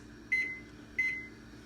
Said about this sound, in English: Let's put the timer on 10 minutes